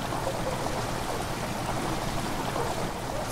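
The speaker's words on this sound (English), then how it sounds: "the water rushing into the chamber makes a strange sound" Water rushing into a stone chamber in the horror video game Amnesia: The Dark Descent, a steady, dense, unbroken wash like a gushing stream that holds the same loudness throughout with no voices.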